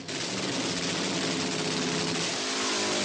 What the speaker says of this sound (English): He then puts his foot hard on the loud pedal and spins the rear drag slicks until the surface tread rubber starts melting.